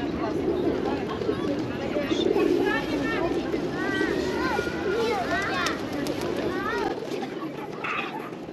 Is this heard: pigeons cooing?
yes